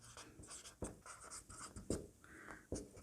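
A pen scratching out math working on paper during a class 9 geometry lesson: quick irregular strokes and taps up close, with no talking.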